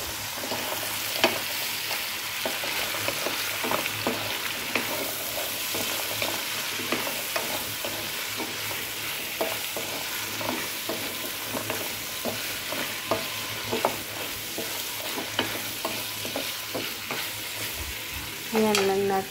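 Squash (kalabasa) stir-fried in a pan, a steady close sizzle with repeated scraping and clattering of a spatula as the pieces are mixed, continuous throughout with no talking.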